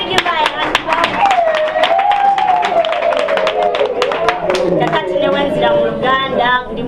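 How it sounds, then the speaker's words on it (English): An audience claps along for a woman who plays piano in her church worship team. The clapping is steady and fairly loud, and a voice talks or sings over it the whole time. "Can we give her a hand clap?"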